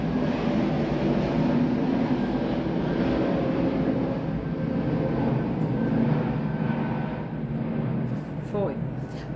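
A low, steady roar of an airplane passing overhead outdoors holds for the whole stretch, a broad rumble that eases slightly near the end, with voices mixed underneath.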